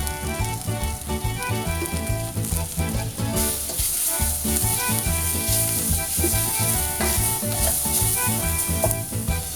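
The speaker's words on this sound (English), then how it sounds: "I'm going to stir this up and I'll let it cook for 10 minutes." A spiced sauce with crushed red pepper, thyme, basil and salt sizzles steadily in a pan while being stirred, with continuous close frying crackle and occasional scraping.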